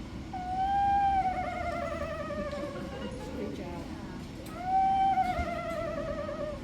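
A person whistles an imitation of a screech owl call, two descending wavering trills separated by a short pause, heard close and clear at a wildlife education show about birds of prey.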